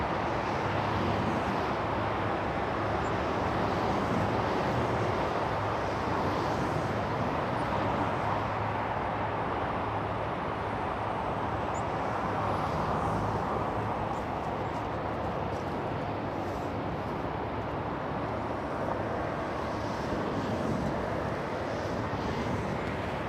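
A Lufthansa airliner at LAX airport produces a steady, broad jet roar that holds at a moderate distance for over twenty seconds, easing slightly later, with no talk.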